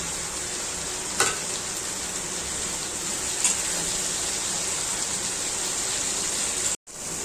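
Powdered spices with turmeric and salt fry in a pan for a pabda fish curry with eggplant and potato, giving a steady, even sizzle throughout, broken by a couple of brief stirring scrapes and a short cut near the end.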